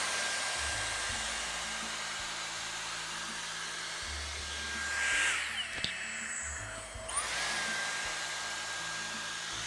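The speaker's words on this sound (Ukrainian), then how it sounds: "І оце пасмо поміщаю між пластинами, отаким чином, і просто тягну вниз." A Dyson Airstrait hair styler dries and straightens hair with a steady, loud whirring airflow that runs nearly the whole time, its pitch shifting briefly midway, with no talking.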